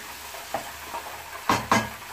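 A spoon scrapes and stirs an Andhra-style prawn fry mixture in a pan, a few soft clinks and two louder knocks over a faint low sizzle.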